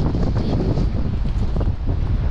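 Strong gusty wind on a September fishing trip buffets the microphone in a loud, continuous rumbling roar with no voices.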